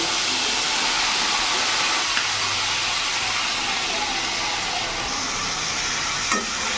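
Chopped banana flower goes into spice paste frying in a pan over a medium gas flame for a vegetarian dish, giving a steady, loud, continuous sizzle with faint scraping and small knocks near the end.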